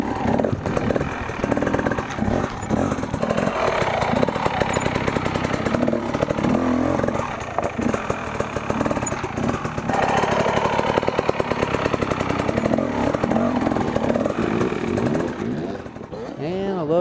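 Enduro motorcycle engine revving hard as the rider hops a log, a continuous loud buzzing roar with throttle blips rising and falling, close up and steady for the whole stretch.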